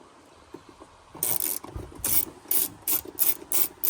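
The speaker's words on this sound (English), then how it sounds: "we've got two T30 Torx in here, so we'll remove those" A ratchet clicks in quick bursts while two T30 Torx screws are loosened on a Porsche 981 Cayman during an exhaust install, several close metallic ratcheting runs after a quiet start.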